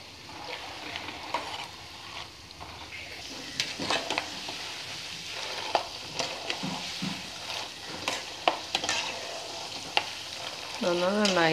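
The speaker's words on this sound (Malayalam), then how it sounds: "ഒന്ന് നന്നായി ഉള്ളിലൊക്കെ ഒന്ന് വേഗന്നേരം ഒന്ന് വറുത്തെടുക്കണം" Chickpeas fry in hot oil for a sweet poha mixture snack, a continuous close sizzle broken by frequent clinks and scrapes of a ladle stirring the pan, with a short tonal whine near the end.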